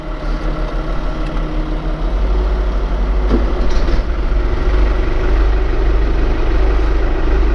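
A small New Holland tractor parked in front of a mulcher idles steadily, a loud, close, continuous low engine rumble with an even throb throughout, no talking over it.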